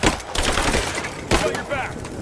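Suppressing gunfire in the video game Rise of the Tomb Raider, a dense, loud mix of shots and impacts running through the whole moment, with a louder burst near the middle and no clear talk over it.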